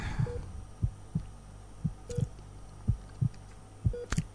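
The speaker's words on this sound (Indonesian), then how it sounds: "Kayaknya detak jantung kamu tuh makin kenceng." A fast heartbeat thumps in steady double beats, soft and close, repeating alone without talk.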